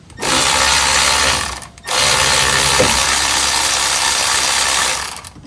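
A power ratchet spins out an M14 brake caliper bolt on a 2014–2019 Toyota Corolla, a loud close rattling whir in two bursts, the first about a second and a half long and the second running several seconds after a brief pause.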